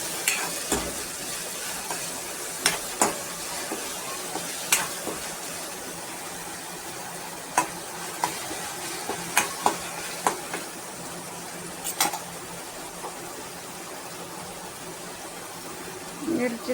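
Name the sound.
green chilies frying in pan for dill vegetable dish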